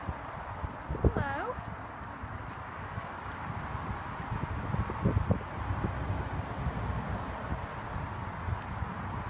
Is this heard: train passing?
no